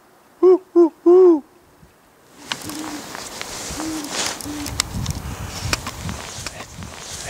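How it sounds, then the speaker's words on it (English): A great horned owl hoots three times close and clear in deep, rounded calls, then rustling movement and footsteps through brush follow, with a few more faint hoots from the owl in the distance. "It's in there. Did you hear it?"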